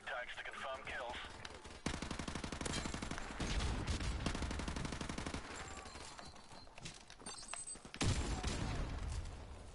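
Dense, continuous gunfire from Call of Duty 4 on PC, with rapid automatic bursts and heavy shots layered over game noise and music, loud and sustained, broken by a few brief gaps, with a voice talking over parts of it.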